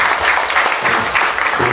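Audience applause fills a political party debate forum, dense steady clapping from a large crowd sustained throughout, close and loud with no talking over it.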